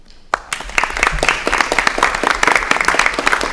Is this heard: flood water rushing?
no